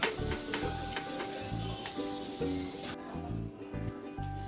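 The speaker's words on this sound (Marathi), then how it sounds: "गॅस पूर्ण बारीक ठेवूनच ह्या भाजून घेते पोळ्या" Three small sweet polis, made from leftover rava laddu, besan laddu and fresh coconut karanji, roast on a small tava over very low gas, giving a steady loud sizzle with soft rhythmic low thumps throughout.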